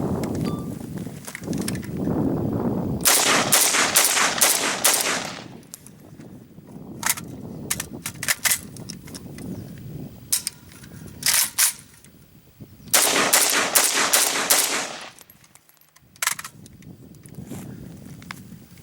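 An AK-47 rifle fitted with ProMag magazine clamps fires outdoors in several sharp bursts of rapid, loud shots, with quieter gaps and some handling noise between strings of fire.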